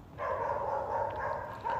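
A dog barking continuously, with loud, sustained, slightly hoarse howling barks and one fresh burst near the end, close and alone with no speech.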